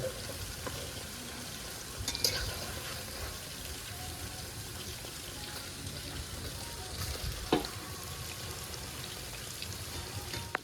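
Chicken pakoras frying in hot oil, giving a steady, close sizzle and bubbling throughout, with a few sharper crackles and pops now and then.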